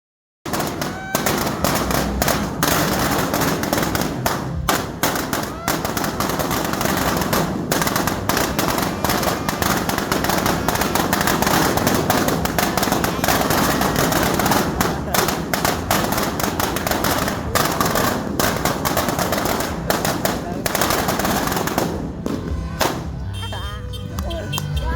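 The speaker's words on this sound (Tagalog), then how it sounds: "inaabangan nila yung sinturo ni Judas na sisindihan ko" Judas belt firecrackers and fireworks going off on New Year's Eve, a long, dense, loud barrage of rapid crackling bursts and pops that continues almost without pause, with occasional voices in the background.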